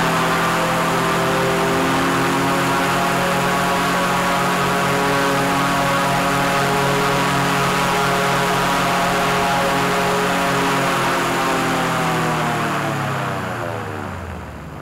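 A gyroplane's engine and propeller run at high power during a thrust test, a loud, steady, close drone with strong harmonics that slowly winds down in pitch and fades toward the end, with no talk.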